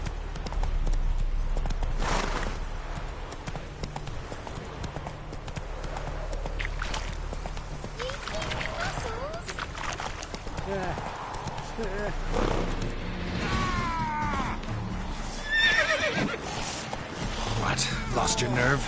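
Roach, Geralt's horse in The Witcher 3, gallops with rapid rhythmic hoofbeats and gives a brief whinny near the end, while voices speak over the steady clatter.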